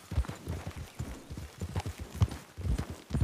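Horse hooves clip-clop in a steady uneven rhythm of close, low thuds, with a few louder strikes near the end, and no voices over them.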